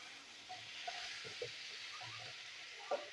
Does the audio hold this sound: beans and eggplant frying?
yes